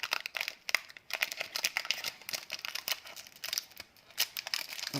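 A Pokémon card booster pack is torn open and its foil wrapper crinkled, giving close, crisp bursts of rustling and crackling with short pauses over several seconds.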